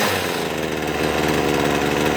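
A junked Poulan Pro two-stroke hedge trimmer engine idles loudly and close up, with a steady buzzing drone and a slightly uneven, pulsing firing rhythm while it warms up, with no talking.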